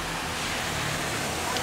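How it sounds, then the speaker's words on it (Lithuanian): A small waterfall from a sewer outflow gives off a steady, close rushing roar of falling water, continuous and unbroken over the short stretch. "prie kanalizacijos kriokliuko."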